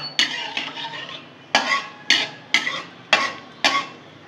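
A spatula scrapes a pan of hot oil where black cumin is being tempered, giving about seven crisp, evenly spaced strokes close by, with only a faint sizzle underneath and no voices.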